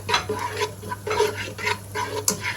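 Butter melts and sizzles softly in a hot pan, with light stirring scrapes and a faint clink of a utensil against the metal.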